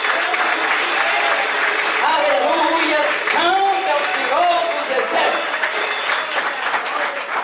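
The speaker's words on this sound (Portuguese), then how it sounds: "Aplaude o Senhor porque Ele está aqui." A church congregation applauds steadily through the whole stretch while a preacher speaks loudly over the clapping.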